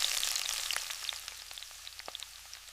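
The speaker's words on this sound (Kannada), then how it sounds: "ತೆಂಗಿನೆಣ್ಣೆ ಬಿಸಿ ಮಾಡಿ ಈರುಳ್ಳಿ ಮತ್ತು ಕರಿಬೇವು ಹಾಕಿ ಹುರಿಯಿರಿ" Onion and curry leaves fry in hot coconut oil for a fish curry, a steady, close sizzle with fine crackles that eases slightly as it goes on.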